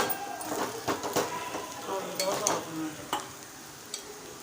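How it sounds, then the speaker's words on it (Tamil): Soaked poha is stirred with vegetables and moong dal in a hot pan, giving repeated close scraping strokes over a light sizzle. "இப்போ நம்ம அந்த ஊறின அவலையும் சேர்த்துட்டு மிக்ஸ் பண்ணி விட்டுக்கலாம்"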